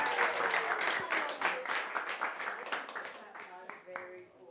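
Party guests clap for volunteer helpers at a children's birthday magic show in Brooklyn, a short burst of scattered applause that thins out, with speech mixed in.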